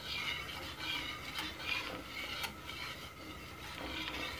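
Constant stirring of milk and flour for kishk in a pot, with a faint, close, steady scraping swish and occasional light clinks against the pot, and no talk.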